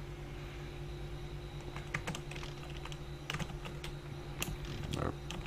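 Computer keyboard typing during play of a gold-rush mining game, a steady run of close clicks and keystrokes over a constant low hum, with a few louder taps.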